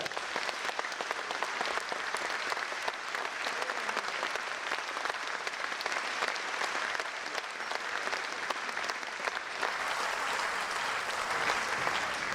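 Sustained, even applause from an audience in a concert hall fills the whole stretch, steady and fairly distant, with no other sounds standing out.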